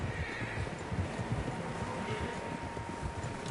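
Several horses in a video game, faint whinnying and clip-clopping hooves layered over a steady, quiet outdoor ambience with no speech.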